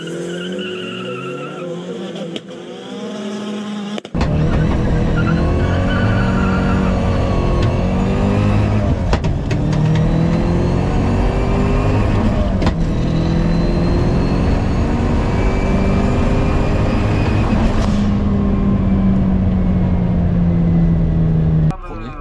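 Cars in a drag race video game, one a Mini, run in low boost as engines roar and rev continuously with rising pitch sweeps, loud throughout.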